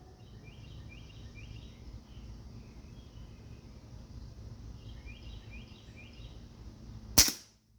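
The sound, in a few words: Crosman 2260 air rifle shot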